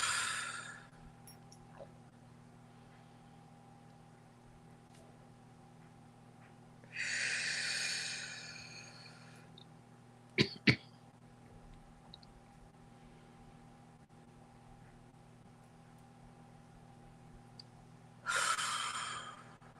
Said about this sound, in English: let's close as we began with 3 deep breaths